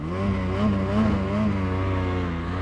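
A Ski-Doo Summit 850 E-TEC Turbo snowmobile engine holds a steady, close, loud droning hum with slight pitch wavering, no voices.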